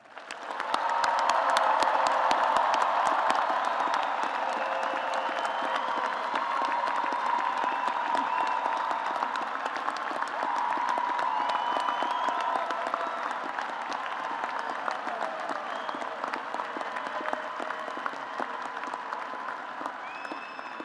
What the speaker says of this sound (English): I ask the audience to recognize your achievement once again with applause.